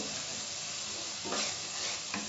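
Slit green chillies drop into a sambar pan and sizzle in a steady, soft frying hiss, with a couple of brief stirring scrapes near the end and no talking.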